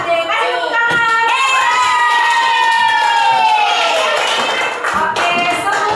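A primary school class cheers loudly in a classroom, children's high voices shouting in long sustained calls over scattered clapping, close and energetic throughout.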